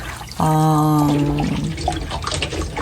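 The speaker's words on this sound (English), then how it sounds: "wash them gently under clean water" Tap water running over cucumbers as they are washed in a kitchen sink, a loud steady splashing stream that starts abruptly and carries on with a continuous rush.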